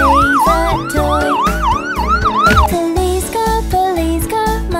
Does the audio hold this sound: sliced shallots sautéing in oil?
no